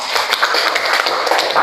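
A group claps together after a classroom talk on networking, a brisk, dense patter of many hands that stays close and even throughout with no voices over it.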